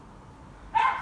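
A single short dog bark or yip sounds near the end, fairly close and clear above a quiet outdoor background in a garden.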